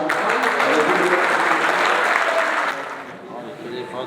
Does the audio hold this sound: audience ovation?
yes